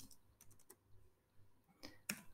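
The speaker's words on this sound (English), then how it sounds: "I will type" Typing on a computer keyboard into a Visual Studio Code terminal: a few faint, quick key clicks in a short run, then a sharper pair of taps near the end, quiet and close.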